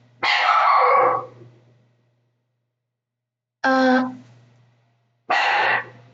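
A dog barks three times, loud and close: a long bark, a pause, then two shorter barks spaced apart, with no talking.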